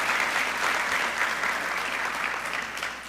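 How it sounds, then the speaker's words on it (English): Applause from the audience at a Seal of Biliteracy graduation ceremony, a sustained even wash of many hands clapping, moderately distant and slightly fading toward the end. "Young people, please give your families a nice round of applause for all of their support."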